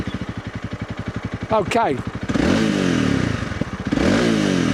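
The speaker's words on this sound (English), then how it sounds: "Not the loudest bike, not the quietest bike. Nice single cylinder burble." A Honda CRF300 Rally single-cylinder motorcycle idles with an even thumping pulse, then its engine is started and revved, giving a louder burble with rises and falls. A short spoken word is heard at the start.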